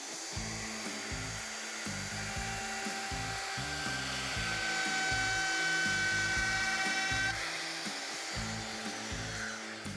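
A Festool router fitted with a profile bit makes a first pass along birch plywood, its motor whining steadily and close for the whole stretch over a faint pulsing background.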